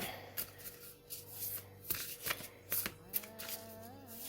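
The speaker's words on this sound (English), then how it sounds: "Let's give this a couple more shuffles here." Oracle cards being shuffled close up, a series of quick riffling bursts with brief pauses between them, ending with a soft tonal hum.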